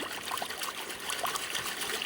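Water sloshes and trickles steadily in a gold pan held under the surface of a creek while fossicking at Oallen Ford, a close, continuous liquid wash with small swirling splashes and no talk.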